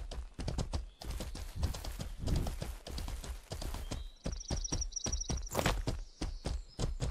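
Rhythmic clip-clop of horse hooves in the video game Mortal Online 2 at a steady pace, close and clear, with a few faint chiming tones partway through.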